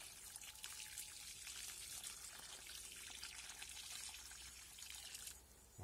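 Water trickles steadily into a watering basin dug around freshly planted squash in a garden bed, a continuous soft splashing and dribbling that holds at an even level throughout and stops abruptly at the very end.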